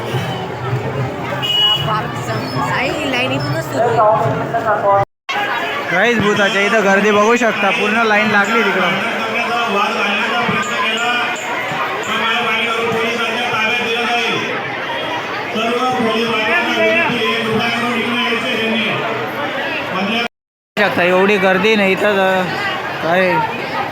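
Dense crowd chatter fills a busy Ganpati decoration festival in Dhule on a Sunday, a steady loud babble of many voices with music-like tones mixed in and two brief dropouts.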